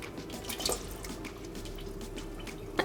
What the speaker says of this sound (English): So then you want to add 3 cups of water to a pot